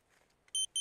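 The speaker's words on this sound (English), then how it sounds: "you always have a buzzer on your quad" A quadcopter's buzzer emits two short, shrill electronic beeps in quick succession, close and clear after near silence.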